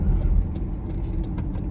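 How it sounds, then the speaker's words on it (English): Steady low road-traffic rumble of passing cars and heavier vehicles, with faint hiss and brief higher swishes, continuous and moderately loud with no talking. "traffic crazy."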